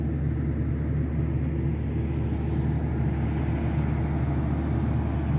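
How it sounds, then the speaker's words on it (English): Big diesel engines run inside a colliery engine house, giving a steady, low, droning rumble that holds constant throughout, heard from inside the building with no talk. "That noise you can hear is big diesel engines running"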